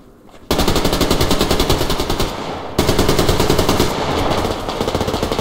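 AKM rifle fire in Survarium, loud sustained automatic bursts of rapid shots starting after a brief quiet, pausing briefly and resuming as another long, close burst.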